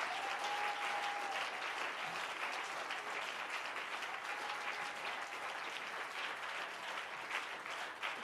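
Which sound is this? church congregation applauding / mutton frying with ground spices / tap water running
church congregation applauding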